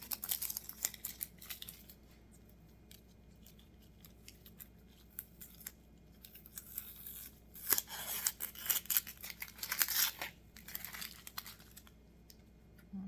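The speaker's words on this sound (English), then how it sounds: "Peel the skin off of this onion." Papery onion skin is peeled away by hand, a faint run of dry crinkles and small tearing rustles that grow busier toward the end, with no talking.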